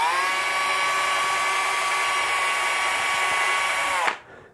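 A 1.5mm drill bit boring into a guitar headstock, a steady high-pitched whine held for about four seconds that cuts off abruptly, with no talking.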